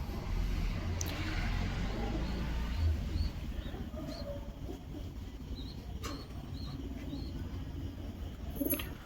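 Pigeons in a loft cooing softly amid a steady rushing background noise, with a few faint chirps and calls scattered throughout.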